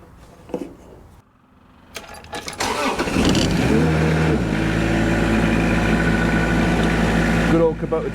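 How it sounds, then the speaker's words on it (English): A Kubota diesel engine cranks briefly after a few clicks, catches, and settles into a loud, steady close-up idle that holds to the end, with a short rattle as it fires. "Good old Kubota diesels."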